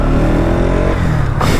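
A Bajaj NS200 motorcycle fitted with a Duke 250 handlebar, ridden with a loud, close engine drone and wind rush that shifts pitch as it accelerates, steady throughout the short stretch.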